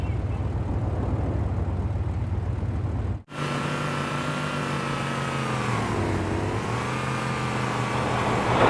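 The Warthog engine from the video game Halo 2 runs in a steady low drone, cuts out briefly, then comes back louder and revs up and down with a swooping pitch, close and unaccompanied by speech.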